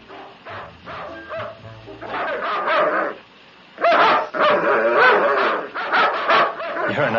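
Several dogs bark and yip in overlapping bursts, loud and close, with whimpers between volleys and a short lull midway before the barking resumes.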